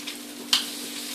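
Food sizzles on a griddle at full heat, a soft steady frying hiss close by with a brief sharper crackle in the middle, no talking.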